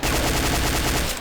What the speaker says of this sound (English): The shotgun actually feels really good.